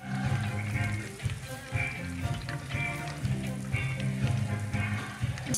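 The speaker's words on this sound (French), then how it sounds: "tant que tu entends les craquements, c'est que c'est pas fini" Ghee bubbling and crackling in a saucepan on the stove, a steady dense sizzle with fine popping that runs throughout, fairly close.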